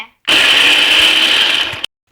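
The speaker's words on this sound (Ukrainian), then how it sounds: "ось ми вже з блендера пересипали сюди наш соус" Kitchen blender running steadily while puréeing a sauce during a cooking show, a loud, continuous motor whir lasting about a second and a half with abrupt start and stop.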